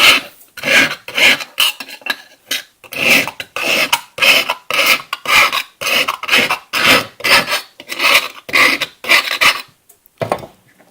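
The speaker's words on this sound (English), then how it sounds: "So in that way we just take a file and file it down." Hand file rasping a hole wider from the outside inward, loud close strokes in a steady back-and-forth rhythm, about twenty scrapes separated by brief gaps.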